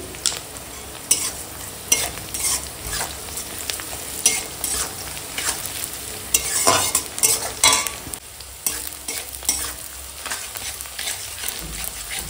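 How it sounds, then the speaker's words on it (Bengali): Panch phoron whole spices frying in hot oil alongside onion and chilli, with steady sizzling and repeated scraping stir strokes of a spatula, close and fairly loud, no talking. "ফোড়নটা এখন ভাজা হয়ে গেছে"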